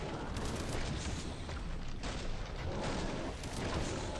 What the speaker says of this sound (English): I'm shooting hellbars.